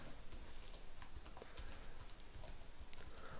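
Rapid, steady typing on a computer keyboard while editing text in the nano editor, a dense run of close key clicks and taps that fills the whole stretch with no speech.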